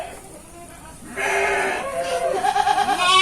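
Sheep and goats bleat on a farm during rain, with several overlapping, fairly close calls building in the second half over a steady background wash.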